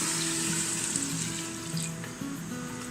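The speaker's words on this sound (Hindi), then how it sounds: "उसके बाद भूनते हुए जब उसकी शक्ल ऐसी हो जाए तो इसमें पानी ऐड करेंगे" Water poured into frying meat in a pot gives a soft, continuous hiss and sizzle with faint bubbling, fairly quiet and steady throughout with no voices.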